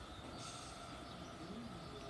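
A 311 series train arriving at Aimi Station rolls along the rails at a steady loud level, with a brief wheel squeal rising midway and constant rumbling noise throughout.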